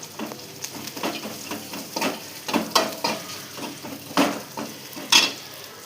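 Fried bitter gourd is tipped into a pan of onion and garlic frying until red, giving a close, loud sizzle with repeated stirring scrapes and clinks.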